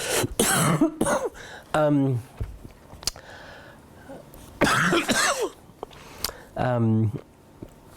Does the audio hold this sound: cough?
yes